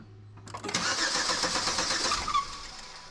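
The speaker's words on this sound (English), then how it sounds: "fire this thing up and see what it sounds like" A Chevy Equinox with blown head gaskets cranks over briefly, then catches and fires into a steady running roar that holds close and loud for a few seconds.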